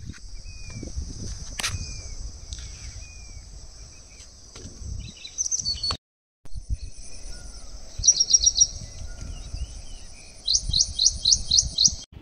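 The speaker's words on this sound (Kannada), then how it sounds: "ಪಕ್ಷಿಗಳ ಚಿಲಿಪಿಲಿ, ಕಲರವ," Birds near Mavathur Falls chirp in short, high, thin calls, some in quick repeated trills, a little distant, over a quiet outdoor background with faint insect buzzing and occasional low rustling.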